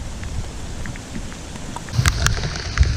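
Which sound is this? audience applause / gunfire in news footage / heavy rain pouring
heavy rain pouring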